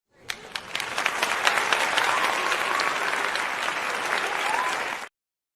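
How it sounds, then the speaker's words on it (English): Steady applause from an audience at a live show, many hands clapping together for about five seconds before stopping abruptly. "Just want to give y'all applause"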